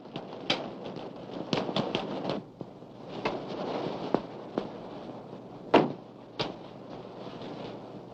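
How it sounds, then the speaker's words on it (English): Door in an old house being handled and shut, with several sharp knocks and clicks, a louder thump near the end, and faint room noise between, with no talk. "And shut the door."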